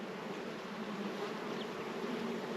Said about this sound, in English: Seems like every time we go to a new one, there's even more bees.